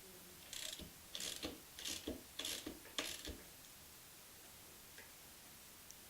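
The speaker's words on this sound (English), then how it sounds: "Replace the washer and fit the nut and tighten as before." A ratchet tightens a wheel nut on a Ford Mustang rear wheel, giving five quiet bursts of rapid clicking in a steady rhythm, each a second or so long, followed by near silence.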